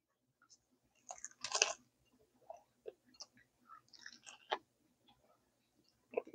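Someone bites into and chews a fried quesadilla taco with Cotija cheese, giving a loud crunchy bite followed by scattered wet chewing and crunching sounds with quiet pauses, close up and with no talk.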